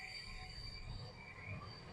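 A Mumbai Metro Line 2B train running toward a station, its wheels squealing on the rails in a steady, high-pitched whine over a low rolling rumble, close and continuous.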